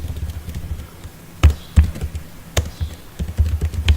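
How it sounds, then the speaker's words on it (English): Keystrokes on a computer keyboard while entering database commands, a few sharp taps at first, then a quicker burst of typing near the end, close and clear over a soft background hum. "For example, if I type here"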